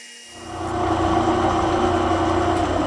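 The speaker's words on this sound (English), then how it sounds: "I'm going to use my lathe to remove the shaft from the second piece" A lathe starts up and machines a shaft out of a stump grinder cutter head, rising within half a second to a steady, loud humming drone with tonal ringing that holds to the end.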